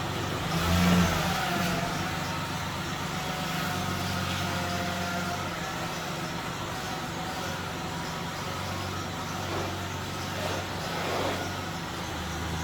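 A truck engine idling and creeping forward as it is driven onto a lift, a steady mid-pitched rumble with a brief rev early on and a few slight swells, close and continuous with no talk.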